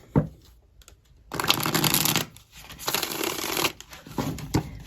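A deck of cartomancy cards being shuffled up close, with a brief flick followed by two long riffling bursts of crisp rapid card slaps and a few softer taps in between.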